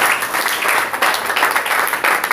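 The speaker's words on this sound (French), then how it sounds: "applaudissez pour ma Flo" A small group in a room claps loudly and steadily, a close, continuous patter of hands with slight swells throughout.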